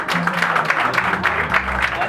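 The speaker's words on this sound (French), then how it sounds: "On l'applaudit s'il vous plaît" An audience at a school singing competition final claps in an uneven patter of applause, with a voice talking over the clapping close by.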